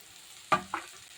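A spoon scrapes twice through pasta sauce with chili flakes and oregano in a pan: two short, quiet strokes over faint background sizzle.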